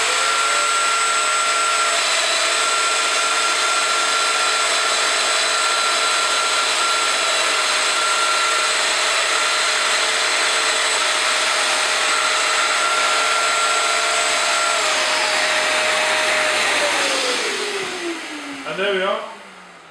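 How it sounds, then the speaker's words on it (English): A Festool Domino DF 700 joiner whines at a steady high pitch through a deep plunge cut into wood, running loud and continuous before winding down near the end. "And there we are, there's that really deep cut, and a little bit of dust in the hole."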